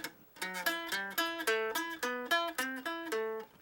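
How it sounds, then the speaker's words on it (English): A melodic line of about fifteen sustained plucked notes alternates a repeated high E pedal tone with the steps of a descending scale, played in a steady even rhythm, clear and close with no talking. "So we'll take the top E, and then pedal tone would sound like this."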